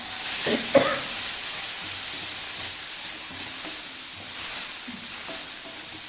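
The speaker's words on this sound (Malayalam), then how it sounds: "വിനാഗിരി ചൂടായി കഴിയുമ്പോൾ നമുക്ക് വറുത്ത് വെച്ചിരിക്കുന്ന പാവയ്ക്ക ചേർത്ത് നന്നായിട്ട് ഇളക്കിയെടുക്കാം." Dried, salted and fried bitter gourd sizzles steadily in hot vinegar in a pan for a pickle, with a continuous close hiss, a few stirring scrapes near the start and no voices.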